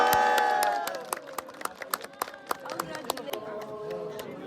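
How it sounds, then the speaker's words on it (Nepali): Clapping by people at a Tamang wedding in Melamchi, Sindhupalchok, with sharp claps in a loose rhythm following a burst of tonal sound and lively crowd noise. "ताली बजाउनु ल मेरो चाहिँ क्ल्यापिङ हो"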